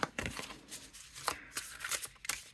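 A deck of matte, silk-finish oracle cards being shuffled up close, a quick run of papery riffles and flicks in uneven bursts with no talking.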